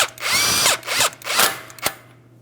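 A power tool removes the brake caliper bolts on a 2007-2014 Ford Edge in three loud whirring bursts of impact-style rattling, each spinning up and down, then a sharp short final burst before quiet.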